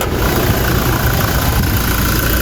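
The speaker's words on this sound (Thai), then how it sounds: "เสียงเครื่องยนต์แน่นๆเลย" Toyota Fortuner 2.4V diesel engine, a lease-return with about 48,000 km, idling steadily up close with a low, even rumble and faint vibration throughout, no talking.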